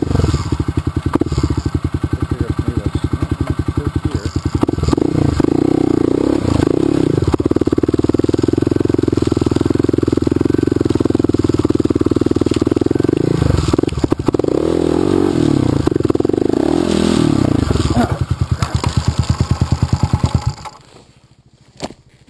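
Trail motorcycle engine on a Stave Lake bushwhacker trail, loud and close, revving and sputtering unevenly while nearly stalling, with clattering and thuds over rough ground before it cuts out near the end.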